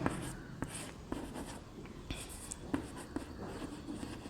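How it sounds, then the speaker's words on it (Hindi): Marker or chalk writing on a board during a Class 11 maths lesson on sets, with scratchy strokes and sharp taps coming in uneven bursts, close and moderately loud, no talking. "देखिए अब यहाँ लिखेंगे"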